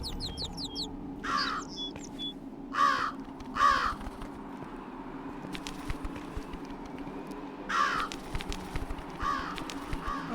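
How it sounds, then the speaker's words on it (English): A raven caws in the video game Jenny LeClue, harsh calls coming in spaced pairs and singles over a steady low rumble of ambience, moderately loud and alone without talk. "Oh, the raven's back."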